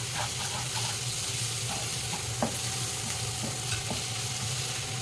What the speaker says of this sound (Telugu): ముల్లంగి టమాటా వేసి లైట్గా ఫ్రై లాగా చేస్తున్నాను